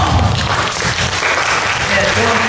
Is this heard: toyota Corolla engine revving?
no